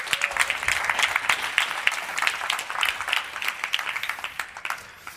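An indoor audience claps steadily at a talk, a continuous patter of many hands lasting several seconds and tapering slightly at the end, with no voices over it.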